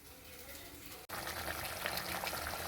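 Ground onion masala sautéing in oil in a pan, a soft continuous sizzle heard up close at low volume, broken by a brief stir or pause partway through, with no talking.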